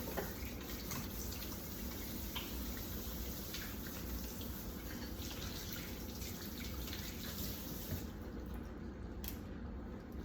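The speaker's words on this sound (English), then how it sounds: "So now I'm finna wash my hands." Tap water runs steadily into a sink during handwashing, a constant close wash of noise that holds for the whole stretch with no talking.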